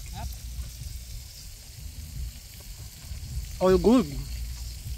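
Chicken karaage frying in oil at a campsite, a steady close sizzle throughout. Brief speech and a short tonal chirp cut in near the end.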